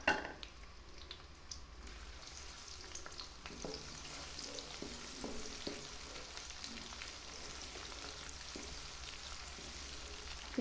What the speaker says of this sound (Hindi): ऑयल गर्म हो चुका है तो अब मैं इसमें 1 मीडियम साइज़ का प्याज डाल रही हूँ। इसको फ्राई करेंगे।